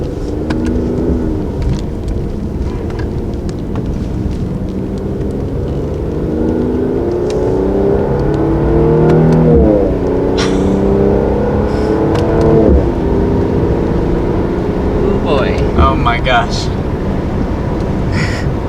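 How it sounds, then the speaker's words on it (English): A 2019 Mercedes-AMG C43 sedan's V6 revs while driving, producing a loud, continuous engine drone that climbs and falls in pitch several times. "We've never been in a V6 43 AMG model from Mercedes-Benz before, and it's definitely a unique sound."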